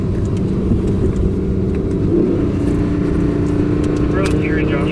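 The V10 engine of an Audi R8 Coupé on a desert road in Joshua Tree drones steadily from inside the cabin as it gradually accelerates, a constant loud rumble with voices talking over it.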